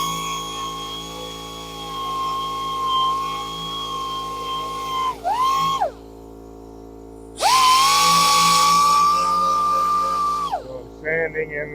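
A turned wood piece spins on a lathe while being sanded, the motor giving a steady high whine that drops out twice as it spins down and restarts, with abrasive rasping over the hum.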